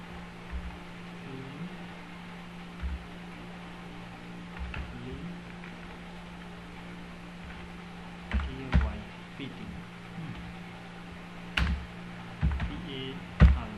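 Sparse clicks of a computer keyboard as a short word is typed, soft, close, scattered taps in small bursts over a low steady hum.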